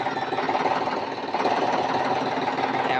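A parked tractor's engine idles close by, a steady mechanical chug with a rapid rhythmic knock running evenly throughout.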